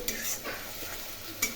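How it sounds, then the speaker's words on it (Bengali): Cumin seeds sizzling in hot oil for tempering, a brief steady hiss with a couple of short scraping bursts as they are stirred. "জিরে ফোড়ন দিয়ে দিলাম।"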